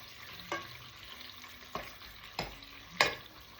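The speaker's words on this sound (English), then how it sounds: "small to medium chilies. Just gonna let this fry." Small to medium chilies fry quietly in a pan, a low steady sizzle punctuated by four sharp stirring scrapes and knocks.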